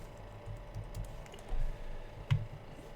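Quiet typing on a computer keyboard, a handful of light, irregular key clicks close by over a faint background hum, with no voices.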